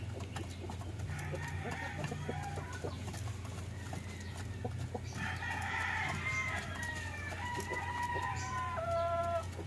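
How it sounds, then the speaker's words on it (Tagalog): Brahma chickens cluck and call repeatedly while being fed breeder pellets with cracked corn in the morning, a steady chorus of nearby fowl sounds over a low constant hum. "Ngayon naman po ay nagpapakain tayo ng ating mga Brahma."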